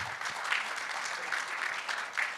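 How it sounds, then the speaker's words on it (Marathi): Audience applause at a literature festival session on comedy skit writing and acting, greeting a speaker: steady, dense clapping from a large crowd that fills the whole moment at a fairly even level. "आपण टाळ्या वाजवून स्वागत"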